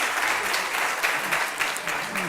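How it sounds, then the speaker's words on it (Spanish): Studio audience applause on an evening Spanish TV talk show as a guest joins, a steady wash of clapping at moderate level with a little speech faintly mixed in. "Te aplaude la gente."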